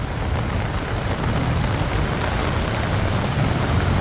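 Rain falls steadily on a flooded street in the Sukhumvit district of Bangkok, a constant broadband wash of moderate intensity, with low rumbling background noise and no speech.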